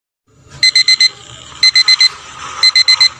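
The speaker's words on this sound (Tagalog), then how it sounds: "kanina pa tumutunog yung alarm clock mo" An electronic alarm clock beeps in three quick bursts of four sharp, high tones, with faint background noise between them.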